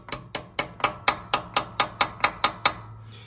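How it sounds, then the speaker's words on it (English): Eleven sharp metallic hammer taps on a Kohler Command engine part at a steady, even pace, each ringing briefly before the next, close by and moderately loud. "I'm gonna tap it in a little teeny bit with a hammer"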